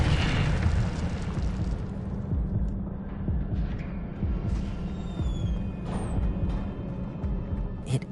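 Incendio fire spells blasting in the Hogwarts Legacy video game on PS5, a dense, continuous roar of booming bursts and rumbling throbs that stays loud throughout, with bright crackling flashes layered over a heavy low-end body.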